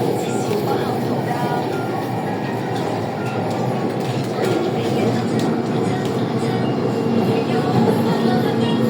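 A Hong Kong MTR Tuen Ma line train runs between Tin Shui Wai and Tuen Mun, giving a steady interior rumble and hum with faint rail clatter throughout.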